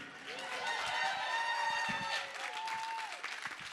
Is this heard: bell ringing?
no